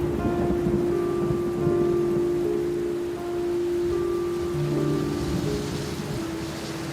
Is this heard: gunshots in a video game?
no